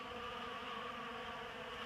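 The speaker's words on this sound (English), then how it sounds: "Look, this bee on my hand here." Bees buzz steadily around a floating bobber feeder filled with sugar water, making one continuous, close, even drone with no pauses and no speech.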